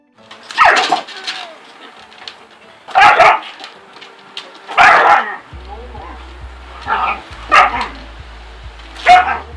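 A dog being handled by a trainer barks in sharp bursts, roughly six loud barks spaced across the stretch with whimpers between and a low hum underneath, and a voice talks in the gaps.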